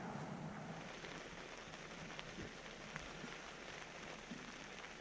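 Steady rain drumming on a tent at Marble Falls in Sequoia National Park, a soft continuous hiss with occasional louder drops close by, without talk.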